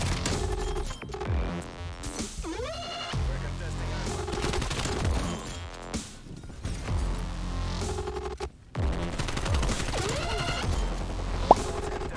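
AK47u gunfire in a video game on the Raid map in Control mode, heard as repeated rapid automatic bursts with short pauses between them, loud and dense under game sound effects and music.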